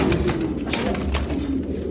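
Chakra pigeons in a pigeon loft coo steadily and close, low throaty calls repeating over a constant background murmur of the loft.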